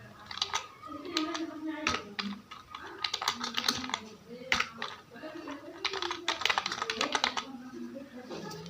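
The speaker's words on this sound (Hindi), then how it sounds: "जल्दी जल्दी से हम अगला नाम टाइप कर लेते हैं" Names are typed on a computer keyboard in quick, irregular bursts of close, crisp key clicks, heard under someone talking.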